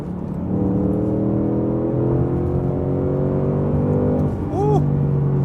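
A Ford Mustang Mach 1 accelerating hard from close range, engine note rising steadily through the gears in a smooth, loud drone before a brief change near the end.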